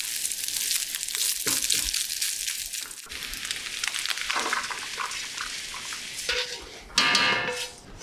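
Beef mince frying in a non-stick pan and being worked with a utensil: a bright, steady sizzle with scraping stirs and clinks, growing louder near the end, with brief speech mixed in.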